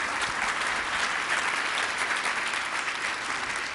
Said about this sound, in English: Another round of applause, ladies and gentlemen, please, for Mayor Hogan